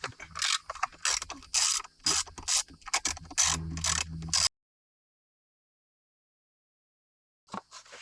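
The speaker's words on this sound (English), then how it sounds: "Now to get this battery out, you need a 13mm socket." A ratchet with a 13mm socket loosens a battery bolt, a loud run of rapid clicking in short bursts for about four seconds, followed by silence and one brief final click.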